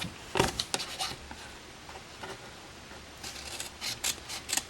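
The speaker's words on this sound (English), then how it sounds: "we are just going to cut up there and there, and then we're going to cut off those two bits" Scissors snip through cardstock along half-inch score lines for a hexagonal lidded gift box, a few quick close cuts at the start, a pause, then another run of crisp snips.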